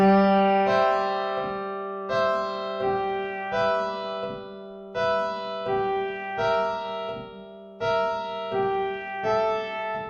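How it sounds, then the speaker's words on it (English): Sheer water sampled piano playing a sequence of chords, each struck and left to ring before the next, with a warm sustained low note underneath; no voices. "Then for the piano, we actually use a sheer water piano, which sounds like this."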